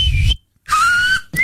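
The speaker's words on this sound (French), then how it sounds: "Et maintenant, siffler vraiment" Someone whistles loudly up close in short, strong sustained tones with a slight pitch slide, broken by a brief silent gap and then a fresh burst.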